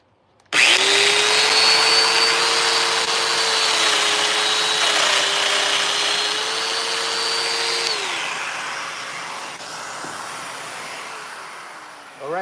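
A Festool Domino joiner starts up with a sudden whine and plunges into wood to cut a mortise, running loud and close for several seconds before winding down, with a dust-extractor hum beneath.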